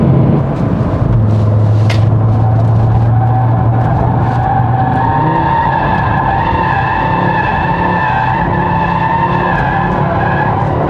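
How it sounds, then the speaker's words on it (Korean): A loud five-cylinder engine of a 2024 Audi RS 3 roars close up as the car accelerates, its pitch climbing steadily, with brief tire noise early on. "5기통이어서 그런가 보통의 이제 4기통 또는 V6와 이 소리가 좀 다른 것 같아요"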